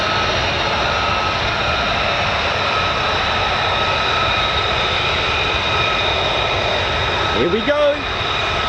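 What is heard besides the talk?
F-35 fighter jet accelerating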